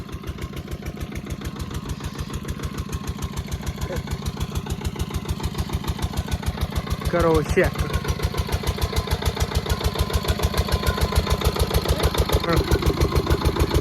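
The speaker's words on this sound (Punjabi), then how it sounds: "ਇੱਕ ਇੰਜਨ ਆਪਣਾ ਆ ਚੱਲੀ ਜਾਂਦਾ" A farm engine idles steadily on a foggy morning beside a solar-powered water motor setup, its fast, even chugging running close and loud throughout while someone talks over it.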